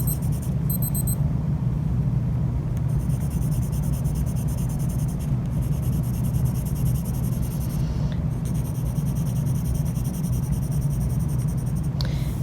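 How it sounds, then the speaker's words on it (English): Graphite pencil shading smoothly across paper with the pencil tip laid low, a steady close scratchy rustle continuing throughout over a low constant rumble, with no talking. "I'm laying my pencil down so that it's shading a smooth amount of color"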